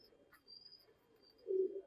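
Breeder pigeons coo softly in a loft, a low faint murmur with one fuller coo near the end and a thin high chirp above.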